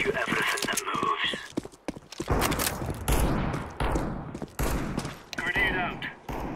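Counter-Strike 2 gunfire rattles in rapid bursts and single sharp shots, close and loud, mixed with footsteps and game voice lines.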